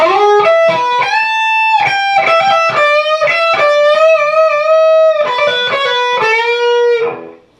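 An overdriven electric guitar plays the closing phrase of a solo: slides, bends and quick picked notes, then settles on a held note that fades out.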